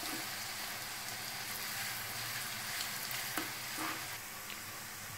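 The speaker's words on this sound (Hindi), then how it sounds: "प्याज को हमें थोड़ा ब्राउन होने तक ऐसे रखना है तेल में" Onions browning in hot oil for dum aloo, a continuous soft crackling sizzle with a couple of faint stirring knocks, steady and fairly quiet, no voices.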